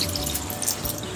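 Water trickles and splashes into potted plants, including aloe vera, on a hostel rooftop, a soft, close pouring and dripping sound over a quiet background, brief and gentle.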